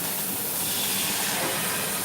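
Water hissing and steaming as it hits a hot pan on a double ring burner of a stove, a steady loud broadband hiss that fills the whole stretch with no pauses.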